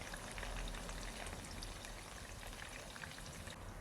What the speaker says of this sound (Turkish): hazırlamış olduğumuz patlıcanları da kızartalım